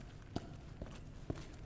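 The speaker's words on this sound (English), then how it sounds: "Can you hear my footsteps at least?" Footsteps in the video game Resident Evil 2 Remake, with a few soft, distinct steps spaced out over a quiet, low ambient background.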